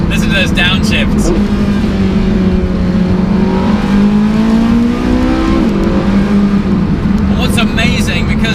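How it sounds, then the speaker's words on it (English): Porsche 918 Spyder engine revving hard through a series of downshifts on an open road, loud and close, with someone talking over the rising and falling engine note. "Listen to those downshifts."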